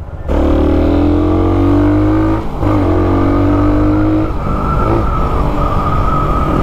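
Suzuki Raider 150 motorcycle fitted with a Vmax racing exhaust accelerating hard, loud rising engine notes climbing through two gear shifts, then a rougher, sustained roar as it pulls away.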